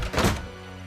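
A single heavy thunk of a door slammed shut and locked in What Remains of Edith Finch, short and close, fading into a low hum.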